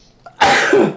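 A single loud, sharp sneeze bursts out after a brief quiet intake, close by, with a harsh breathy spray that trails off.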